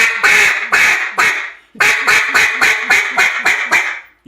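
A Mondo LA duck call blown in a run of loud, close quacks: three spaced notes, a brief pause, then a quicker series of about eight descending quacks, with no talking.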